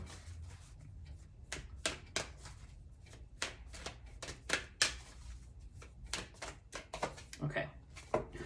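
Moonology oracle cards being shuffled by hand, a rapid series of crisp papery riffles and taps close by, with a person speaking softly at points.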